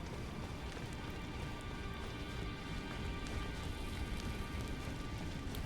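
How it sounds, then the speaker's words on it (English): Steady rain created by a boss in its second phase in the video game Elden Ring falls as a dense, even hiss with faint patter throughout, at low level and with no talk. "it creates rain in Phase 2"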